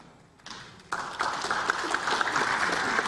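Applause breaks out from lawmakers' seats in the National Assembly chamber during a floor leader's address, rising suddenly after a near-quiet start and holding as a dense, steady clatter of many hands.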